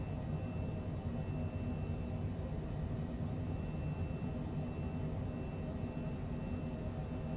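Cessna Longitude business jet on its takeoff roll in Microsoft Flight Simulator 2020, a steady loud engine roar and rushing broadband noise that holds constant throughout with no talking.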